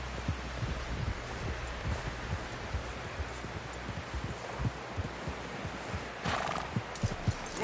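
A horse in the Red Dead Redemption 2 video game clip-clops steadily in a soft, rhythmic gait, with a whinny and rustling over a dense outdoor ambience.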